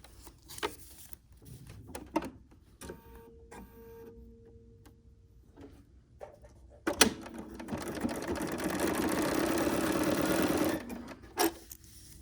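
A sewing machine stitches a seam on a quilt block, with a few scattered clicks and handling noises at first, then one sustained loud run of stitching for several seconds before it stops, close by.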